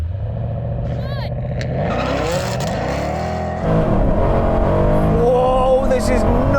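A 750 hp Mercedes-AMG C63 Black Series and a 700 hp BMW M3 launch in a drag race, engines roaring loud and close as they rev and accelerate hard, the roar building and rising in pitch through the run.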